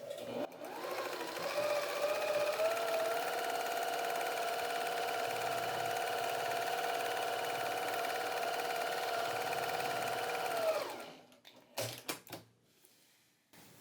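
A sewing machine runs in a long, steady whirring burst while free-motion quilting a meandering stitch with a freshly loaded bobbin, then stops abruptly and leaves a few faint clicks and handling noises.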